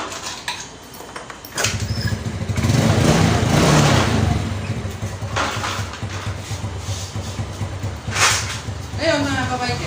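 Yamaha Mio Sporty motorcycle engine idling during rectifier repair work, a close steady low hum and rattle that swells and eases, with someone talking over it.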